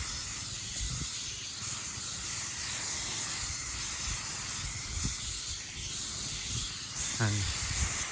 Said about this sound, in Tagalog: ang kaganda ng power spray mga kagulay oh yan. Mabilis lang mag-spray.